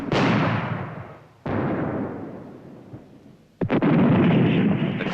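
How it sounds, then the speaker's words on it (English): Artillery guns firing in the Vietnam War, three heavy booming blasts spaced over several seconds, each rolling off in a long fading rumble, loud and alone. "the guns are soon in action"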